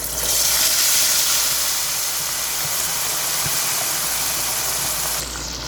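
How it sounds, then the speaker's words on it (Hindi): Pieces of chicken tikka fry in hot oil with a loud, dense, continuous hiss and crackle that holds steady and then drops off sharply near the end. "बाकी भी इसी तरह हम फ्राई कर लेंगे"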